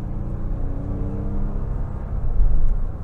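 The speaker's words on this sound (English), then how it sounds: "I'll give it some throttle here." Engine of a 2011 Toyota Sienna XLE minivan with a 3.5 liter V6 and 180k miles, heard from inside as it accelerates under throttle, a steady low rumble and whir swelling louder near the end.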